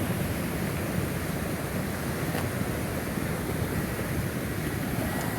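Flash-flood water rushing down an arroyo in La Luz, New Mexico, waves topping a road, producing a steady, dense roar of churning water with wind buffeting the microphone throughout.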